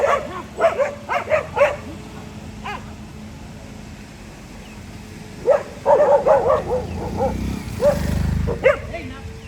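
Stray dogs bark and yip in short bursts, two clusters separated by a quiet stretch, with a low rumble near the end, heard at moderate distance in the open during a training walk with a Doberman.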